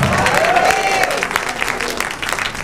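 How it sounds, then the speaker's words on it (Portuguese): A church congregation claps in a dense burst of applause that gradually thins out, with a voice briefly audible over the clapping. "Aplaudisse Jesus aí"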